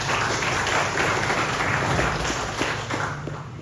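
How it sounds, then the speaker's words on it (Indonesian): Dense, steady applause from a crowd at a cooperative's annual members' meeting, a continuous wash of clapping at even loudness throughout with no voices on top. "kita beri aplaus dulu untuk kita semua"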